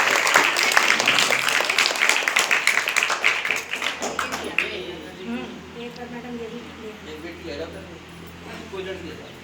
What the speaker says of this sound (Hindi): बेटा जोरदार ताली बजाओ थोड़ा सा।